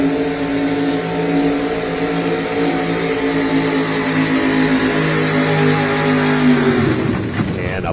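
A 1987 Ford Ranger pulling truck's engine roars loud and steady at high revs through a competition pull, its pitch dropping and breaking up as it clunks out near the end.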